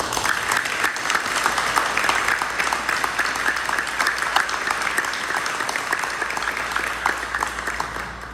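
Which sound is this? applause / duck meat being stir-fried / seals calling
applause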